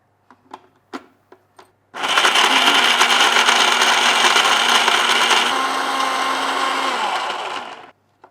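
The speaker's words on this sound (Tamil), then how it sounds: "ஸோ ஊற வச்ச காஞ்ச திராட்சையும் அத்திப்பழத்தையும் அதோடு சேர்த்து பேரிச்சம்பழத்தையும் இது நம்ம மிக்சி ஜாரில் போட்டிருக்கோம்" A mixer grinder jar blends soaked dried grapes, figs and dates into a paste, starting abruptly after a few soft clicks and running as a loud, steady whirring roar for about six seconds, its pitch shifting slightly midway before it cuts off.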